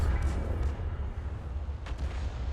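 A Hummel self-propelled artillery gun in a tank video game fires a round, heard as a dull, booming low rumble that rolls on steadily with no talk over it.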